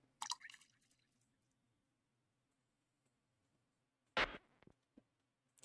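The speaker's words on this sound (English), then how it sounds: "Drip the crow's blood." Crow's blood drips onto a hand-drawn magic circle in a video game, with a soft wet splat followed by a louder squishy drop and a few faint clicky drips in near-silence.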